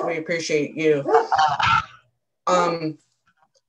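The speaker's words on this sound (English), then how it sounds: "I apologize for my dog barking." During a virtual city council meeting, a speaker's voice is mixed with a dog's sharp, rapid barks and yips close to the microphone, in two short bursts with a pause between.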